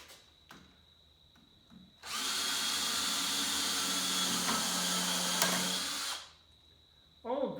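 A power drill bores into wood at a work table for about four seconds, loud and steady and close, with quieter workshop noises before and after.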